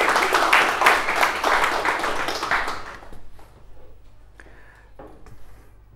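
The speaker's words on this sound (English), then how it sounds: "We'll give Yanaga a little round of applause for everyone." A conference audience applauds a Red Hat speaker at a Java user group meeting in Dublin, with a dense burst of clapping for about three seconds that then thins to a few scattered claps and faint room noise.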